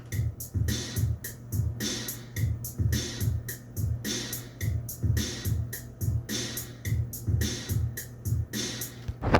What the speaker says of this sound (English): And this is what the drums sound all together.